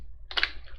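A short burst of computer keyboard typing while writing code: a few quick, close key clicks clustered together in under a second, alone with no voice.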